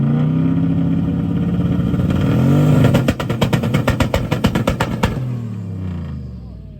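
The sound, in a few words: turbo GMC truck two-stepping with exhaust cut off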